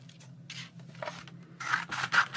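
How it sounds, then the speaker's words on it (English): Scissors snip and rasp through paper in several short, uneven cuts, close up, with a low steady hum underneath. "grab my scissors."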